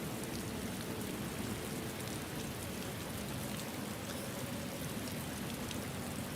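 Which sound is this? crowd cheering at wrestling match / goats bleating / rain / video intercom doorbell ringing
rain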